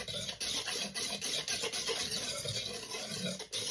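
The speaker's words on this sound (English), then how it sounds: "And just whisk that in." Melted butter being whisked into a buttermilk coconut pie filling, giving a continuous brisk scraping and swishing of a whisk in a bowl, close and steady with slight rhythmic dips.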